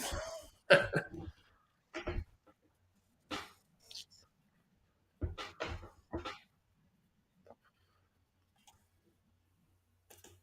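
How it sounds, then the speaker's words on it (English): Scattered coughs and throat clearing from people at an early-morning California protest with tear gas, several short, fairly close bursts separated by quiet gaps. "I hear a lot of people coughing."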